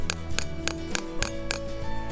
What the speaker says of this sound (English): gently tap the spile in until it's snug